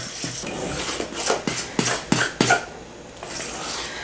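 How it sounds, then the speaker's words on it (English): Flour being mixed into a sourdough chocolate cake batter in a bowl, heard as a series of sharp utensil knocks and scrapes against the bowl at an irregular, close-up rhythm. "And then you just mix it together."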